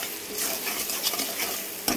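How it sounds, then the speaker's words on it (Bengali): Spices frying and sizzling in a pan with a steady scraping stir, for a Bengali pabda fish curry; close, continuous crackle with a brief louder scrape near the end, no talk. "দেখতেই পাচ্ছ মশলাগুলো সুন্দর করে ভাজা ভাজা হয়ে গেছে"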